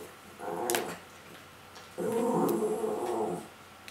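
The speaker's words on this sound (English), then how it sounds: "That's my little dog baby. He's having a dream." A small pet dog growls and whimpers in its sleep while dreaming, two soft bursts of low throaty sound with high whines, close by and with no talking.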